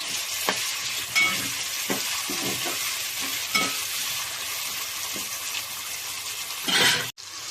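Tomato pieces fry with onion and ginger in a pan for a crab curry, a steady close sizzle broken by periodic scraping stirs of a spatula, with a brief metallic clink near the end.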